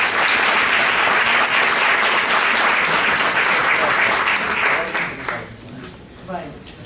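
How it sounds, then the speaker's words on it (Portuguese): Sustained audience applause at a late-afternoon community round-table gathering, loud and dense for about five seconds before thinning out and fading, with a voice starting to speak near the end. "eu pedi uma salva de palmas para o Pedro"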